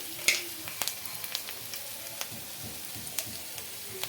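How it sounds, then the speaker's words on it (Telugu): Ginger garlic paste frying with softened onions in a pan, a steady low sizzle dotted with small crackles and pops, quiet and close, with no talking. "పచ్చి వాసన పోయే వరకు అయితే బాగా ఫ్రై చేసుకోవాలి"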